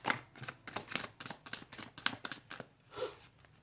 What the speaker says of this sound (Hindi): मैं शफल कर लेती हूँ एज यूजुअल।